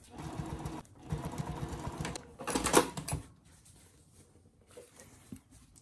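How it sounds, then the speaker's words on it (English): A sewing machine stitches along the edge of a placemat pouch in several short bursts with pauses between, its motor and needle whirring up close. "We're just going to stitch right along that edge."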